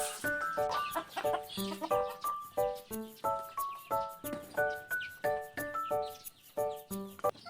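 A mother hen clucks steadily with her chicks, making a close, rhythmic run of short, throaty clucks, roughly two per second, that continues without pause in a backyard pen.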